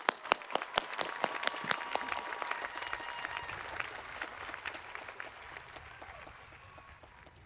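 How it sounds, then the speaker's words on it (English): A graduation audience breaks into loud applause, opening with a few sharp individual claps and then swelling into dense, sustained clapping from the crowd before slowly thinning. "Let's get a round of applause."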